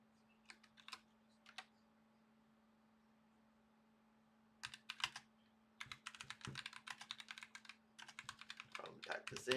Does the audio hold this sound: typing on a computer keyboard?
yes